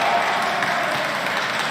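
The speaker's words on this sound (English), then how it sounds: "There's some claps for that." Audience applause at the Yu-Gi-Oh YCS Pasadena 2022 finals card game tournament: a steady, dense wash of many hands clapping, fairly close and sustained throughout.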